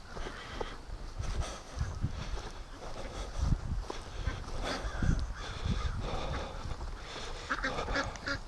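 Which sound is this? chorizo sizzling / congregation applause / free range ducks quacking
free range ducks quacking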